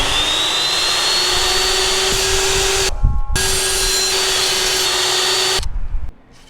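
A power tool cuts axle spacers that adapt 12mm motorcycle fork axles to 15mm, running as a loud, steady whine that drops out briefly near the middle, then resumes and winds down at the end.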